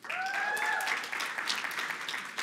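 A debate finals audience applauds a team member being introduced, a lively burst of clapping with sharp individual claps standing out, and a faint high whistle-like tone trailing through the first second.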